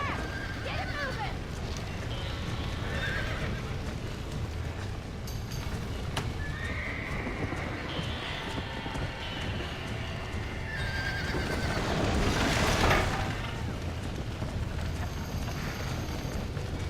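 A horse in the Red Dead Redemption video game whinnies several times over clip-clopping hooves, with a louder, rougher burst near the end, while voices shout over the action.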